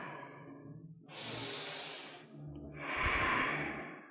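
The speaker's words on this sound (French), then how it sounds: "On inspire vers l'avant, expire vers l'arrière." Slow, deep yoga breaths rush in and out close to the microphone, two long airy breaths separated by a brief pause, with no talking.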